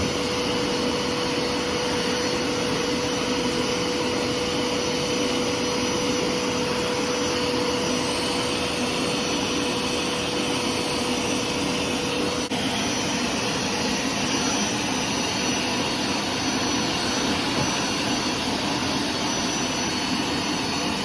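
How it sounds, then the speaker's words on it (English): A Hoover vacuum cleaner sucks rinse water out of a freshly washed carpet, giving a loud, steady whine and roar that runs unbroken the whole time with no talking. "I'm about to remove the water, to vacuum all the water from the carpet."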